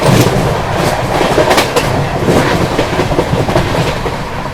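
The Sasaram Dhanbad Intercity Express passing right alongside a moving train on an Indian rail line, a loud continuous rumbling roar with rapid rhythmic clickety-clack of wheels over rail joints, close and without voices.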